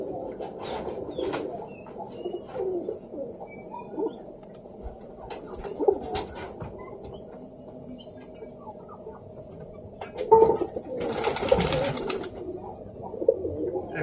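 Pet pigeons, including green-and-black birds, coo softly and repeatedly up close at home while being fed peanuts and chickpeas, with scattered rustling, a brief louder flurry near the end, and occasional voices.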